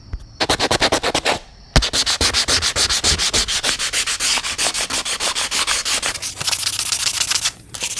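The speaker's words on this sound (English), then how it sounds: "and then you want to begin sanding" Close, loud back-and-forth sanding on a Honda K-series valve cover with low-grit paper to strip paint, a fast rhythmic rasp of even strokes with one short pause early on.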